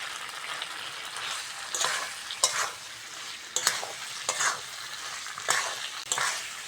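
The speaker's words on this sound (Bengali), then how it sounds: "মশলার সঙ্গে ভালো করে পেঁপেটা কষে নিয়েছি" Papaya being sautéed with spices in a pan while a curry is being cooked: a constant close sizzle with repeated scraping stirs at an uneven, regular pace.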